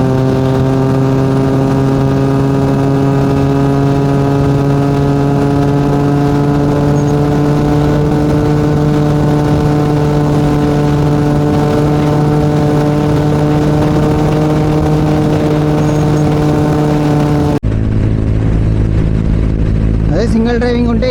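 A KTM Duke 250 motorcycle cruises on a highway, its engine droning in a steady loud harmonic hum with wind rush that holds even throughout, shifting abruptly near the end.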